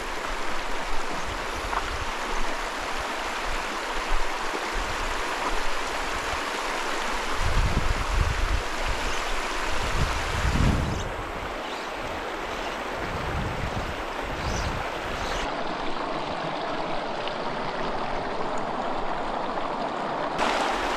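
A mountain stream in Wyoming flows with a steady broadband rush of water, mixed with low gusts of wind noise that come and go, and no voices.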